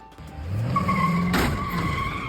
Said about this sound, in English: A driver is seen on camera slamming into cars during a road rage encounter in Woodland Hills.